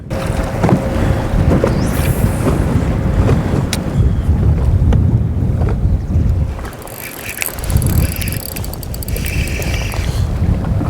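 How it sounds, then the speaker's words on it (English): Steady wind buffeting the microphone over broadband rushing noise on a boat while winter fishing, loud throughout with a brief dip near the end, then gusting again. "you can tell the wind's really starting to pick up."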